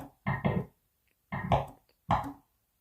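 Percussive hits from a sampled drum kit built from pool cue and cue ball sounds come as three short dull thumps with a gap after the first. They sound dry, close and processed, with no talking.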